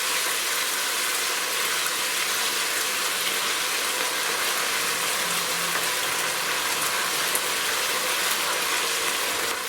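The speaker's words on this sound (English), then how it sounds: "This is the ginger garlic paste. I'm going to put this in there now. And I'll saute it for about a minute." Ginger garlic paste sautés in a hot pan with a steady, dense hiss and sizzle, unbroken and fairly close for the whole stretch, with no voices.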